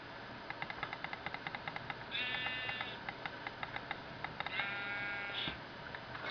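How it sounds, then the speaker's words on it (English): Sheep in the Minecraft video game bleat twice in drawn-out, wavering calls over a steady run of soft rhythmic clicks and a faint background hum, with no one talking. "Sheep."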